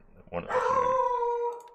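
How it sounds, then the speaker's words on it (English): A dog gives a single drawn-out, tonal bark that stretches into a howl-like whine, heard clearly and fairly close in an otherwise quiet room. "my dog barking at the back"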